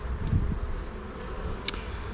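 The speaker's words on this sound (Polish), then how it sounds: "widzę ogólnie duży ruch pszczół szybko chodzą, lekko się denerwują" Honeybees crawl over a frame pulled from an open honey hive, making a low, steady buzzing hum close to the microphone. A few faint rustles and one brief click sit over the hum, and no one talks.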